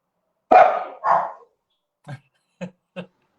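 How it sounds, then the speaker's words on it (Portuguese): A dog barks five times, two loud, drawn-out barks close by followed by three short, fainter yips after a pause, with no talk over them during an interview. "parece que nós tivemos um probleminha aqui. Com o cachorro."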